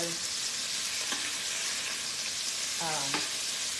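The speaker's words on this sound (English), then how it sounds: "I'm just going to flip these and smash them down" Homemade sausage patties sizzle loudly and steadily in a ceramic-coated pan, a bright close hiss with a few faint tonal squeaks from the spatula underneath.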